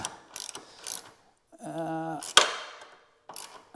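Close, quiet clicks of a brand-new socket wrench turning on a Harley-Davidson saddlebag protector bolt, with a short run of ratchet ticks in the middle, a sharp metallic clack and scattered handling noises around it.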